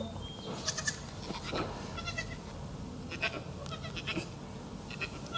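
Baby Nigerian dwarf goat bleating, several short high bleats under a steady background noise, with people talking quietly at times.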